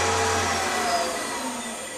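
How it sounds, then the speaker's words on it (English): An AC electric motor under a controller whines with a steady, slightly wavering drone, its speed dipping faintly and then spinning back up, loud and close. "you can hear the way the motor speed drops very slightly and then spins up again"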